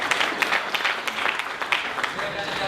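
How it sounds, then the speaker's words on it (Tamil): Audience applause for Swami Vivekananda at a film press meet, a dense steady wash of many hands clapping at close range throughout, with scattered voices mixed in. "சுவாமி விவேகானந்தருக்கு இவ்வளவுதான் கைத்தட்டா?"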